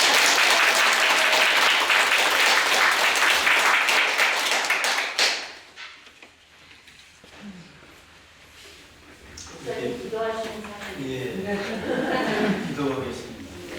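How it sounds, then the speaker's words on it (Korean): Audience applause welcomes a lecturer at a Korean church lecture session, loud and sustained for about five seconds before fading, followed by quiet room sounds and then voices speaking. "다시 한번 박수로 맞이해주십니다."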